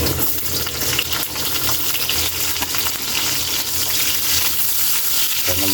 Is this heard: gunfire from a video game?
no